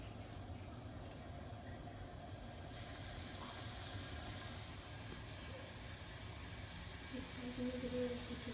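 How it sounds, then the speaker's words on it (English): Slider patties sizzle on an oiled pan, giving a steady, quiet hiss that rises slightly as the cooking goes on, with a few faint clinks near the end. "we are going to put on our sliders"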